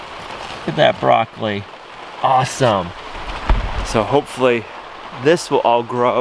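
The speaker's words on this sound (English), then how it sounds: "Sorry for the rain." Rain falls steadily on a winter greenhouse, a soft constant patter beneath someone talking close by.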